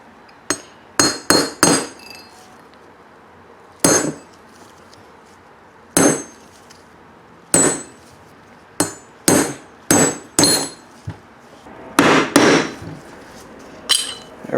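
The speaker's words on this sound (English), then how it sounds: "getting this chisel, sticking it through here and getting it right on the lip of this race" Sharp metallic hammer blows on a chisel driving a wheel bearing race on a Mercedes W123, struck in irregular bursts of two to four hits with short pauses, close and loud with no talking.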